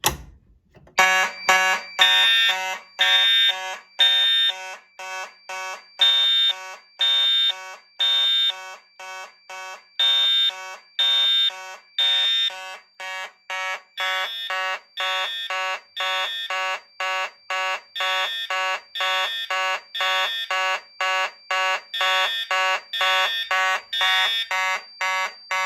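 An Edwards 270 pull station sets off a fire alarm system, whose loud electronic horn pulses in a steady rapid on-off pattern that continues unbroken from start to finish with no talking.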